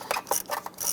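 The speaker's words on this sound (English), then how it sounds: "Using a 10mm socket and extension, we're going to go ahead to this front bolt down here." Short bursts of 10mm socket ratchet clicking while loosening a bolt on the airbox behind the alternator of a 2002-2008 Dodge RAM, close up and dry, several quick ratcheting strokes with no talking.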